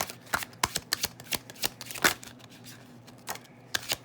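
Tarot cards are shuffled and drawn in a quiet room: a run of crisp, irregular riffling snaps and flicks, close and clear, with pauses between bursts and no talking.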